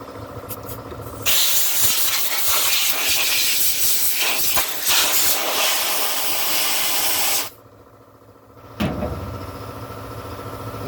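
A pressure washer sprays hard onto the parts of a Jonsered 670 chainsaw, a loud steady hissing blast that runs for several seconds, stops briefly, then starts again.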